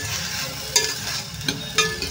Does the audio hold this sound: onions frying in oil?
yes